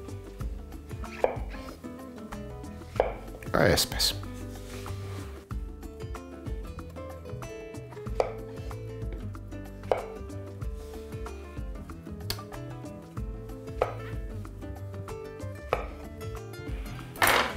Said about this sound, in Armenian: ամեն սունկը կտրատում եմ 4 մասի